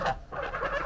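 Domestic geese and a small duck call on a rural farmyard, giving short, close honking and quacking cries in a quick burst.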